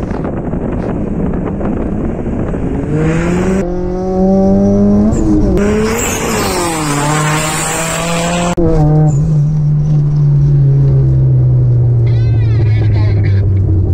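A 1990s Mazda 323 GTR is driven hard on a rough road, its engine revving and climbing through the gears with wind buffeting the microphone, loud and close, with someone talking over the engine.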